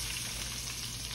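Tempura-battered shrimp frying in plenty of oil in a skillet, a dense, steady sizzle and crackle heard up close and without any voices.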